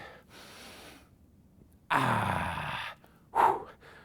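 Breathing during a dumbbell squat: a faint breath first, then a long, loud rushing inhale through the nose and mouth lasting about a second, followed by a short, sharp breath or snort, close to the mic with no talking.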